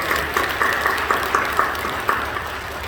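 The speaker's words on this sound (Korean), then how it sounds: "우리 박수로 격려해 주시죠." A church congregation applauds to encourage worshippers, giving a moderate, steady clapping with a few louder accents throughout.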